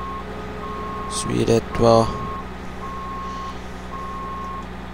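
Steady, evenly spaced reversing beeps from a snow groomer in Skiregion Simulator 2012 repeat through the whole stretch, with a low engine hum underneath and a brief burst of speech over them partway through.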